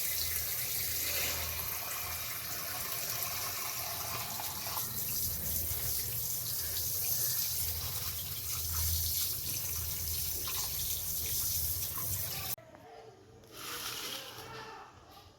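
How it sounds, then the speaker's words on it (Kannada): Running water from a tap splashes steadily over fish pieces being rinsed for a fish sambar, a continuous close wash that cuts off near the end, leaving a quieter, thinner trickle. "ಈ ಮೀನು ಪೀಸನ್ನು ನೀಟಾಗಿ ಒಂದು 2 ಸತಿ ನೀರಲ್ಲಿ ತೊಳಿಬೇಕು"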